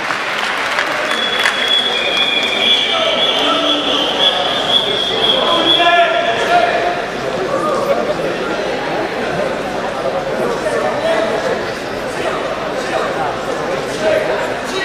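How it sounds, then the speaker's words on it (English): A crowd applauds at a men's 65 kg wrestling final between Georgia and Azerbaijan, steady sustained clapping filling the arena for about fifteen seconds, with crowd chatter, whistles and an announcer's voice blended underneath. "round of applause"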